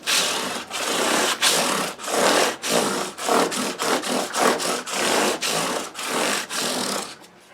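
A guitar part being hand-sanded with 320 grit sandpaper to remove file marks, heard as steady rhythmic rasping strokes, about fourteen back-and-forth passes, close and fairly loud with no voices.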